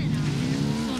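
A motorbike in the video game Ghost Recon Wildlands revs with a loud, steady engine drone rising slightly in pitch over about a second, close and continuous.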